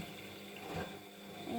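Siemens washing machine on a silk 30 °C cycle drawing water into the drum, a quiet steady rush of flowing water with a faint pump-like hum, no talk.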